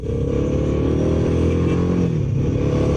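A Royal Enfield Himalayan 450 adventure motorcycle engine runs steadily up close in traffic jams, with uneven revving and rumble amid road noise, no voices.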